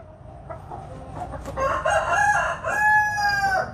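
An ordinary chicken clucking, then breaking into a loud, close crow with harmonic calls rising and falling over the last two seconds, with no talk.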